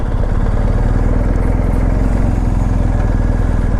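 BMW R1250GSA motorcycle engine running steadily while riding, a loud continuous throbbing hum that stays level throughout, with no voices.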